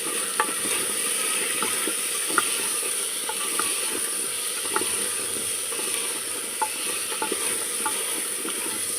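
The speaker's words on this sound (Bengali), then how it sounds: "এখানে দিচ্ছি একটু আদা রসুন বাটা, কষানো হবে এটা।" Ginger garlic paste frying in a pan while being stirred, a steady hiss of sizzling with small scraping ticks from the spoon scattered throughout, close and moderately loud, no speech.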